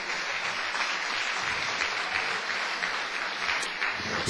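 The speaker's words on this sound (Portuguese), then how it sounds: "Agora você pode aplaudir o Senhor." A church congregation breaks into loud, dense, continuous applause that fills the room evenly without a pause.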